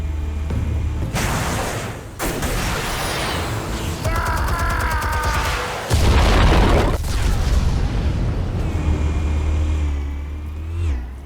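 Explosives detonating in Batman: The Telltale Series, with a deep, loud boom and rumbling blasts, bursts of debris and mechanical clatter through the middle, and a sustained low roar carrying to the end.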